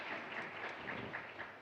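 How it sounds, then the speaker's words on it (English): Faint, continuous audience applause fills a hall at the opening of the fourth Infectious Disease Research Institute Cooperation (IDRIC) symposium, a steady distant patter with no single claps standing out. "We will open the fourth IDRIC symposium with a big round of applause."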